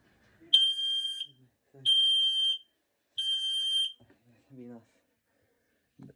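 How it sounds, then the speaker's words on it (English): Household smoke alarm during a monthly home test, sounding three loud, piercing electronic beeps about a second long each, separated by short gaps, with brief murmuring and a faint voice in between. "Alright, I'm testing the smoke alarm."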